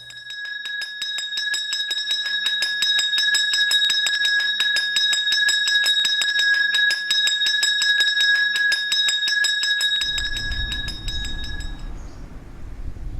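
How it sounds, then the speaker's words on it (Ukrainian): An electric school bell rings for the last bell of the school year, a loud, continuous metallic clanging that goes on for about ten seconds, then cuts off, leaving a low rumble of background noise. "Ось срібний голос дзвоника лунає, В однім пориві всі серця єднає."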